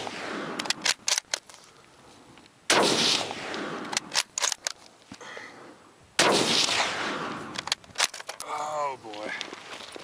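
Rapid rifle fire from a World War II Mauser at an outdoor range: loud, sharp shots in quick clusters with long ringing echoes trailing off, followed by a person briefly speaking near the end.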